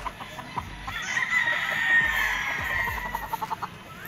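Golden Boy sweater gamefowl roosters on a game farm cluck and crow close by, in short repeated bursts and one drawn-out crow.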